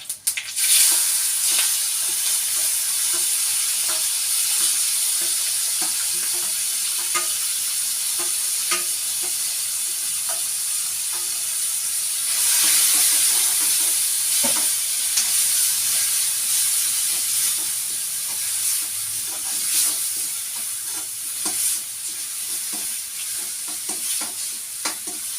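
Grated raw mango with green chillies and curry leaves sizzles and fries steadily in a pan for a Kerala-style mango pachadi, with a continuous hiss and occasional stirring scrapes, close and even throughout.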